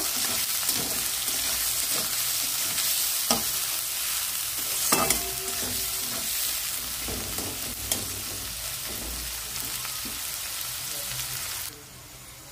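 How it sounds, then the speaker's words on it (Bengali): Onions sizzle steadily in a hot pan with green chillies for pomfret fish curry while a utensil scrapes and stirs now and then; the frying cuts off abruptly near the end. "দিয়ে পেঁয়াজটা আমি ভালো করে ভেজে নেব।"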